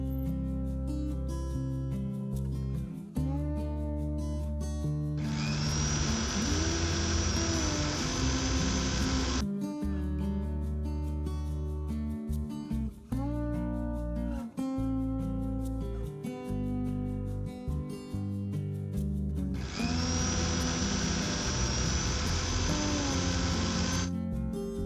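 Mixer grinder pulverising roasted coriander seeds into fine powder, a loud steady motor whine in two bursts with short pauses between, no voices.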